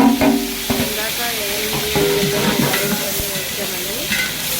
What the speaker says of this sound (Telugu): ఉల్లిపాయలు, లవంగాలు, సాజీరా, స్టార్ పువ్వు అవన్నీ ఇందులో వేసుకున్నాం.